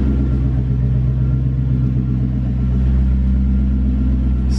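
A Lexus SC400 idles just after a cold start, a loud, close, steady low engine rumble that holds even throughout with no revving.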